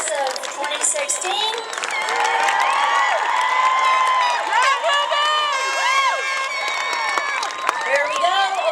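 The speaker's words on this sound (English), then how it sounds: "One more round of applause for the class of 2016." A high school graduation crowd applauds and cheers for the graduating class of 2016, with whoops, whistles and shouting voices over continuous clapping, loud and lively throughout.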